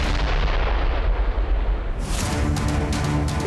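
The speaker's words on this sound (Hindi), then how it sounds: "तभी एक जोरदार धमाका होता है" An airstrike explosion on a fleeing car in Iraq's Al Anbar region: a heavy, deep boom with sustained low rumble and crackling debris, loud and without voices.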